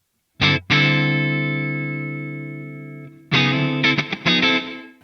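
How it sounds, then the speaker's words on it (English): Electric guitar through an Atomic Amplifire 6 with medium reverb at stock settings: a sustained chord rings out with a long, lush reverb tail that slowly decays, then a few quick strummed chords follow, loud and close, with no talking. "So I'll go with the medium verb, and I will go for a little bit more decay."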